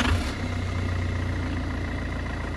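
A Citroen C5 HDI diesel engine idles with a steady, low, even drone and a slight thump at the start, close and unchanging throughout.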